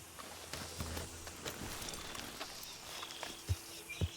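Horse hooves in Red Dead Redemption 2 clopping at a walk, a light uneven series of soft thuds fairly close and quiet, ending with two sharper knocks.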